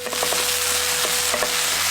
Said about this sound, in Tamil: 2 தேக்கரண்டி இஞ்சி பூண்டு விழுதையும் சேர்த்து நல்லா வதக்கிடுவோம்.